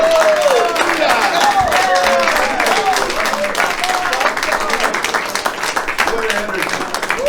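Comedy show audience applauding at the end of a stand-up set, a steady wash of clapping and crowd noise while a performer talks over it.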